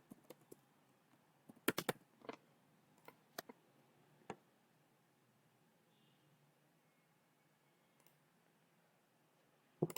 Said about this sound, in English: I'll type it one last time.